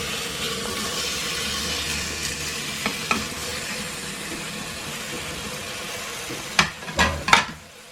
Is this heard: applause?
no